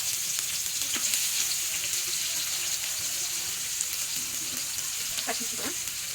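Onions frying in oil for a chicken fry: a steady, moderately loud sizzle with a few stirring scrapes, continuous throughout.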